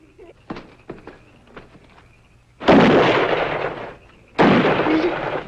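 Gunfire in a slapstick comedy scene: two broad, loud blasts ring out a couple of seconds apart, each decaying over about a second, following a few quieter sharp knocks.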